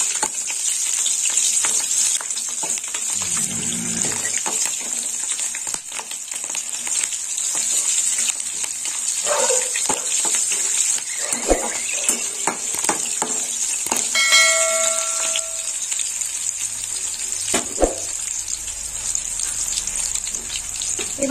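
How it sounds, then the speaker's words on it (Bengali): A tempering with green chillies frying in a pan and being stirred for moong dal with peas, a continuous bright sizzle with scattered clinks and scrapes of the spoon, close up, and no one talking. "ফোড়নটা আমি ভালো করে নেড়ে চেড়ে নেবো।"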